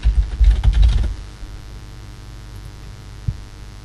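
A password and email address are typed on a computer keyboard in a quick, close burst of clicking keystrokes lasting about a second, followed by a low steady electrical hum and one faint later tap.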